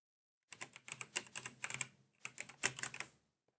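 Typing on a computer keyboard, rapid close key clicks in two bursts separated by a short pause, alone in a quiet room.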